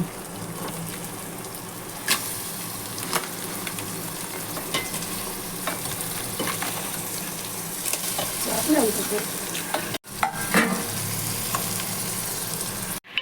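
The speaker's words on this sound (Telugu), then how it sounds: "మనం పీతలు వేసేసాము పీతల్ని ఇలా కలుపుకోవాలి" Crabs being stirred in a frying pan for crab curry, a steady loud sizzle with scraping and clattering strokes, close by, with brief talk underneath.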